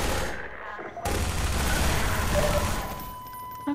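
Gunfire in the shooter game Half-Life 2 comes as a dense, continuous rattle of shots, dropping out briefly before resuming loud and sustained, with some voice mixed in.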